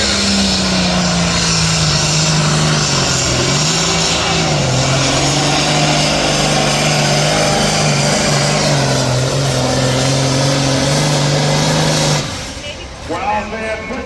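A pulling tractor's engine roars loud and close through a run at a tractor and truck pulling championship, a sustained heavy drone with slight pitch dips before it cuts off abruptly near the end.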